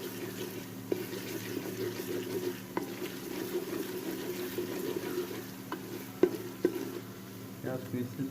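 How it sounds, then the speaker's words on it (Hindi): Sliced onions fry in a pan with garlic and ginger paste for mutton kunna, giving a soft, steady sizzle with occasional clinks and scrapes of stirring against the pan. "थोड़ा सा इसको भी प्याज के साथ फ्राई करके"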